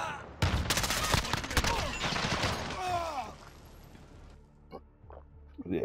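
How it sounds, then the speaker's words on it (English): Rapid handgun fire in Call of Duty: Modern Warfare, a dense burst of sharp close shots that thins into scattered crashes and a couple of final pops. "This gun popped off."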